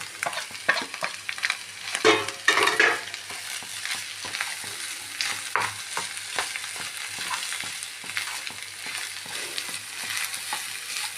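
Green peas with turmeric, chili powder and coriander powder sizzle in a pan while a spoon stirs and scrapes through them. The clatter is busiest early on, and the sizzle stays steady with no talking.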